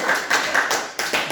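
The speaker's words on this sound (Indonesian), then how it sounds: "Tepuk tangan dong." Brief scattered clapping from a church congregation, a few loose rounds of hand claps with a voice speaking over them.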